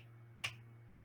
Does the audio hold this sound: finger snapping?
yes